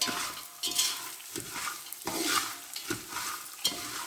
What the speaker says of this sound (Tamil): பச்சையாக போடுறதுனால நம்ம கொஞ்சம் வறுக்கலாம்